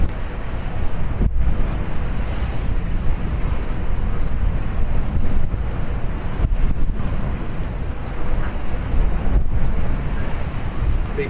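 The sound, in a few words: strong wind and waves on sailing boat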